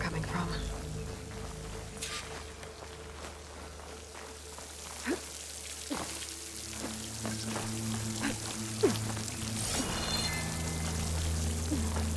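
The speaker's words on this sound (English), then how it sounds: "Near that waterfall." Waterfall in Horizon Forbidden West, a continuous pouring, splashing rush with rain-like patter and a steady low hum underneath, holding at moderate loudness throughout.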